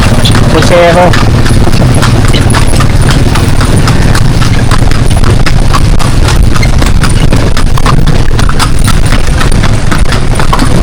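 Horses pulling kalesa carriages through the streets of Vigan clip-clop steadily and close by, with a brief whinny near the start and people talking throughout.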